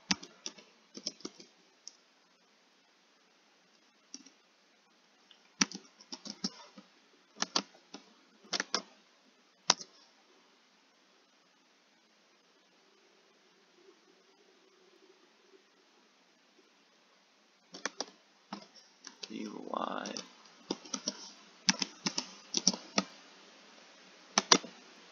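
Short bursts of computer keyboard typing, with quick clustered key clicks separated by quiet pauses and a faint background hum, close and fairly soft.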